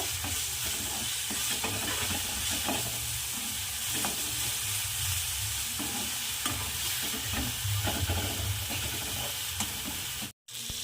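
Tomatoes softening with salt in a pan for savoury vermicelli upma, stirred steadily: a continuous close sizzle with repeated scraping strokes of the spoon, no voices, cutting off briefly near the end.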